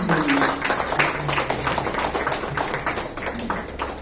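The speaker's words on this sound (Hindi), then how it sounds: "तालियों की आवाज फिर से कम हो गई।" Steady applause from a crowd, a dense patter of clapping that holds at an even level throughout without building or fading much.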